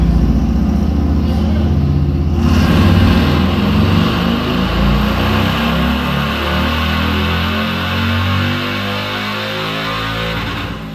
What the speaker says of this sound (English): He's got another bike in there on the Dyno.